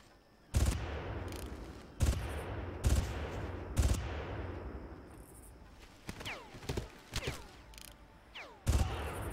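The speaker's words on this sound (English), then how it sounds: "I still don't know who's shooting at me." In the 2004 game Far Cry, sharp single gunshots ring out at the player at irregular intervals. Loud reports are spaced a second or two apart, and quieter, more distant shots scatter between them.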